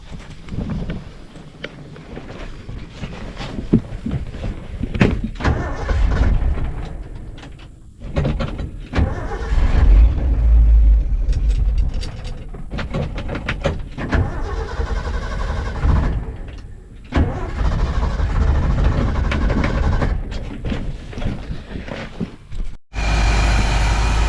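An old Ford truck, pulled straight from a pasture, with its engine running and idling near the microphone, rattling unevenly with surges and dips, plus some clanking and handling noises.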